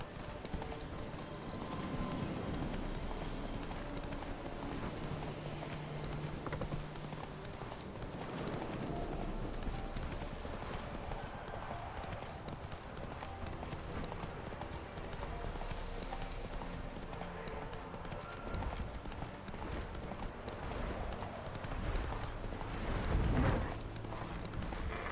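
Roach the horse gallops in Witcher 3, a continuous rhythmic clip-clop of hooves under game ambience, steady and moderately loud throughout.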